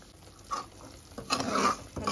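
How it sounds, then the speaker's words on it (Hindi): Semolina halwa roasting in ghee over low heat, with soft scraping and stirring strokes and a faint sizzle, building to a denser burst of stirring near the end. "हलवा भूनते हुए 5 मिनट हो गया है"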